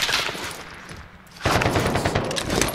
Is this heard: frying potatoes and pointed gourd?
no